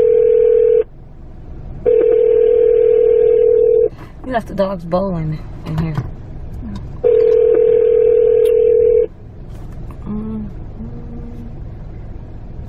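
A steady telephone dial tone sounds loudly from a phone inside a parked car, broken by a burst of keypad dialing tones, then the tone resumes; someone speaks between the tones.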